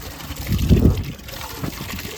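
Sandy, murky water poured out in a short splashing gush that peaks early, then tapers to a lighter trickle, close by with no talk over it.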